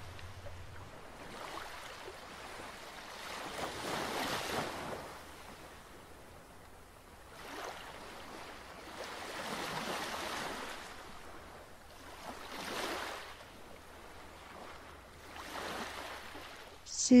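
Ocean waves wash in and recede in a slow, regular rhythm, four soft surges of surf rising and fading over a quiet, hissing background.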